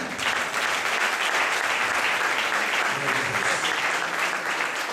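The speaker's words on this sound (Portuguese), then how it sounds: "Vamos receber o servo do Senhor com as palmas, amém?" A church congregation applauds to welcome the preacher at an evening service, a thick continuous wash of clapping that stays loud and even from start to finish with no speech over it.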